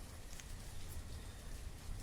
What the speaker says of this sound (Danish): Ej, hvorfor regner det hele tiden?